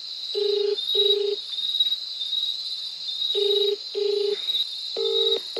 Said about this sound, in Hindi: भाई फ़ोन नहीं उठा रहे हैं